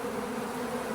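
A dense swarm of honeybees feeds on wet, honey-covered wax comb left over from extraction and set out in the sun, making a steady, continuous close-up buzzing with no breaks.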